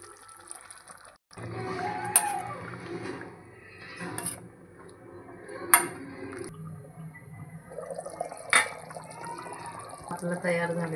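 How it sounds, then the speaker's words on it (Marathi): Hot water poured into a simmering prawn masala with papad wall (flat beans) in a pan, heard as bursts of splashing and bubbling liquid between sharp clatters of a utensil, with background voices. "गरम केलेलं पाणी टाकायचं आहे."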